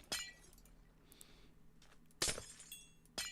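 Glass blocks breaking in modded Minecraft, three sharp crisp shattering bursts spaced apart, fairly quiet over faint background sound.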